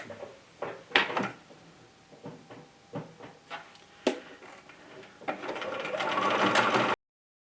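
A sewing machine running a modified zigzag stitch in short bursts of clicks and taps, then settling into a steady, louder whir near the end, close by with no talking.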